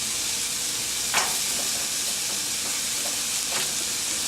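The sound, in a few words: corn tortillas frying in oil in a pan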